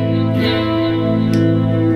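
An RJ Broadcaster electric guitar played through effects with the lower pickup selected rings out as a sustained, distorted chord that stays loud and steady, with no talking.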